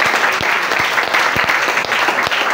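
A church congregation applauds the Lord during a pastor's sermon, a steady wash of clapping with a few sharper claps standing out, sustained and fairly loud throughout.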